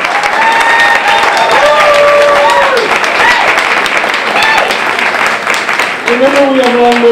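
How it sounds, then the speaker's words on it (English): Audience at a city council candidates' equality forum gives a standing round of applause, dense sustained clapping filling the room with crowd voices and some speech mixed in throughout. "Let's give them a big round of applause and thank them for being here."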